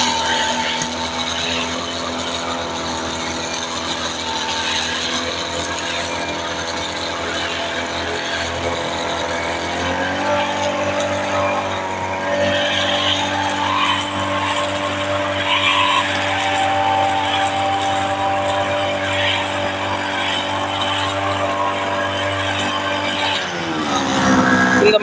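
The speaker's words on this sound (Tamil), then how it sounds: "இது நம்ம ப்ரெஷ் கட்டர் அப்படிம்பாங்க" A brush cutter fitted with a plastic cutting line trims weeds in a field, its engine running at a steady high drone throughout with a slight shift in pitch partway through, loud and continuous.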